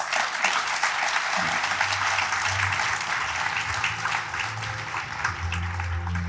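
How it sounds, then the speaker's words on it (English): Sustained audience applause at the APICTA Awards Ceremony 2022, a dense steady wash of many hands clapping throughout, moderately loud with a faint low hum underneath and no talking. "may I request you all to give yourselves a big round of applause"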